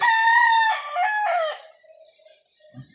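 A small, freshly caught wild chicken gives one loud, close crow with a strained, ragged end. Quiet background sounds and a brief soft rustle follow.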